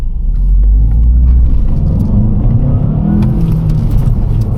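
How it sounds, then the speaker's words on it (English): A car engine roars loudly up close with a deep rumbling growl, revving and settling into a sustained throaty drone, with no voices over it. "This car's got a bit of roar to it, innit?"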